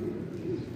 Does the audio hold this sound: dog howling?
no